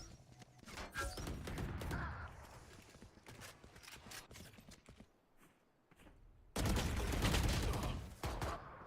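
Gunfire in a Valorant esports match crackles in dense, rapid bursts with sharp individual shots, dropping briefly to a quieter lull before a loud, sustained volley resumes near the end.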